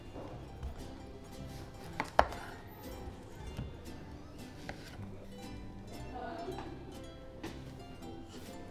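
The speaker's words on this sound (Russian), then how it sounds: "кабачок, который нужно нарезать на брусочки" Knife chopping zucchini into sticks on a cutting board, a steady run of soft cuts with one sharper knock, close by and without talk.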